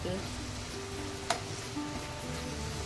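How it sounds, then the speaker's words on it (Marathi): Finely chopped onions with ginger and garlic sizzle softly in a pan as a brief, steady frying hiss with one sharp utensil tap, under a person speaking. "तर आपल्याला हे चांगलं परतवून घ्यायचं।"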